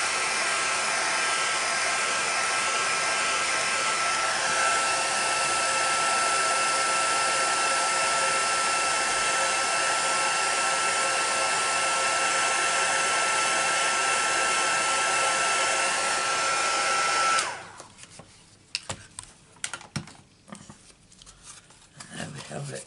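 An embossing heat tool blows hot air in a loud, steady whirring roar at close range onto embossing powder for nearly eighteen seconds, then switches off and leaves light handling sounds, with brief talk in the background.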